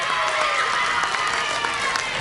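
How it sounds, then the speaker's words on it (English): Audience applause for a first-prize winner at a primary-school poetry and storytelling competition: a steady, dense patter of many hands clapping without a break, with a faint crowd murmur underneath. "Please give a big round of applause for him."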